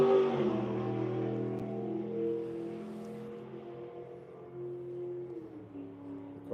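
A loud Camaro engine revs and drones at a distance on a race track at Putnam Park, its pitch rising and falling as it accelerates and shifts, with no voices.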